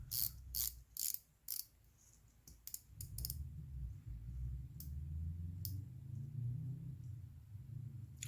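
A SteelDive SD1975 tuna-style dive watch bezel gives a quick run of crisp ratcheting clicks, close and small, followed by a low muffled rumble of handling.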